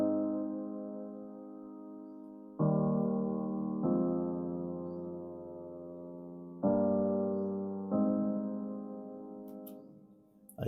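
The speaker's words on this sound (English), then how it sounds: "It's just the piano." A Keyscape piano plays sustained chords, each struck cleanly and left to ring and decay before the next change, with four chord changes played alone and clearly.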